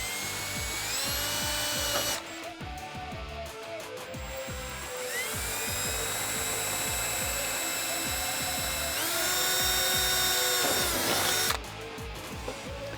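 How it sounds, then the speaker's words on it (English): Power drill fitted with a 3/32 bit boring holes for fender flares on a 2014-2018 Silverado 1500, several whining bursts that spin up and run steady, close and loud. "We're going to take our drill with a 3/32 drill bit, and we're going to drill our holes."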